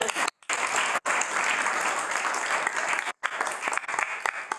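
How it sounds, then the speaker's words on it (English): An audience at an academic roundtable's opening session claps in a sustained round of applause, loud and full, with a few brief gaps where the sound drops out. "join me in a round of applause"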